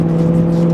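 A BMW E90 M3 on a winding, clean road gives a brief, loud, steady engine tone under hard acceleration, close-up and alone without talk.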